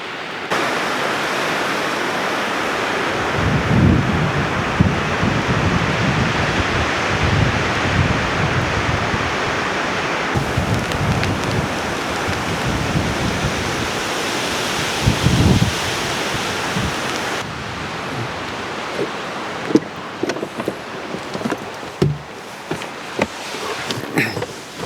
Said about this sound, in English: The rain is just starting.